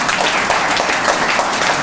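An audience at a medical devices grant event applauds a speaker coming forward, with dense, loud, sustained clapping filling the room throughout.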